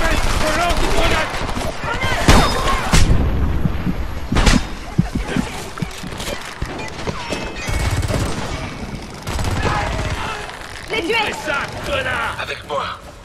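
Heavy gunfire in the shooter game Homefront during a helicopter recovery under fire: sustained machine-gun bursts and sharp individual shots with booming impacts, loud and close, mixed with shouted battle chatter.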